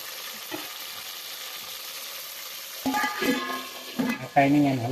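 Onions fry in hot oil in a home kitchen and get stirred, giving a steady close sizzling hiss; voices start talking over it near the end.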